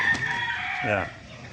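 A gamecock rooster crows loudly and close up in a backyard, with clucking from other chickens around it and a faint voice in the background.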